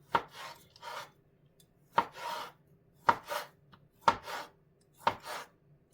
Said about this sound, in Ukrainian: Нарізаємо кубиком ковбасу та м'ясо.